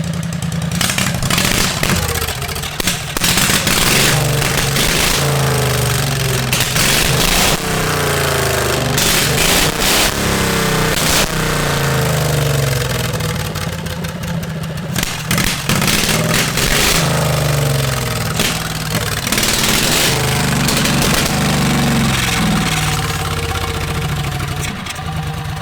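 A lawn mower V-twin engine swapped into a Volkswagen Beetle runs loud and close, a rough, steady, rapid chugging that holds without pause.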